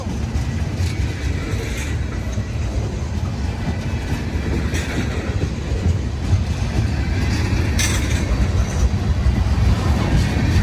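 A CSX freight train with a B&O heritage locomotive and a distributed power unit rolls past close by, a steady heavy rumble with rhythmic clickety-clack of wheels over rail joints.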